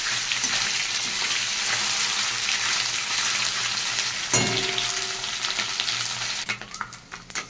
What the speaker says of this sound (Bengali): এখানে আমি কিছুটা মোরলা মাছ ভাজতে নিয়ে নিয়েছি